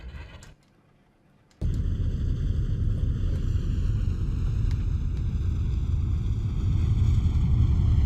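A steady propeller engine drone from a Convair CV-240 airliner in Flight Simulator X kicks in abruptly after a quiet moment, loud and continuous with a low rumble and a faint rising whine.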